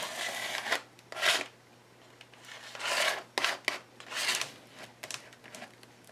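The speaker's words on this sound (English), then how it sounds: "I'm going to drag it around with my credit card or a gift card." A credit card is dragged around a mixed media journal page in repeated scraping strokes, several separate rasping swipes with pauses between them, close and quiet with no talk.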